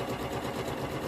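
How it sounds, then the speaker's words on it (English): A sewing machine stitches steadily along the edge of a fabric label on scrubs being made, a close, continuous whirring hum with no pauses. "And sew that quite close to the edge."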